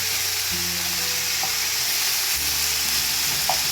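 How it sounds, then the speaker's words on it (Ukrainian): Olive oil sizzles steadily in a multicooker pot as plov ingredients fry, a continuous close crackle with a few brief stirring clinks and no voices. "Зараз воно трішки підсмажиться"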